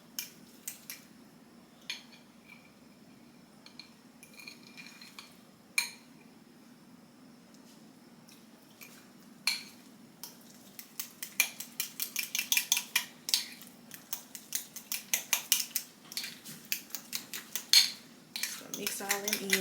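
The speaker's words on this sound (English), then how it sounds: "And I'm just going to mix all my seasonings in." Seasonings are mixed into guacamole in a bowl, a spoon clinking and scraping against the bowl, sparse at first, then building into a rapid run of repeated clinks and scrapes.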